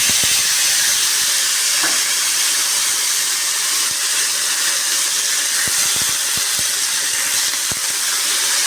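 Vegetables for khichuri frying in a kadai with tempering spices, giving a loud, steady hiss close by, broken by a few faint clicks and knocks, with no talking.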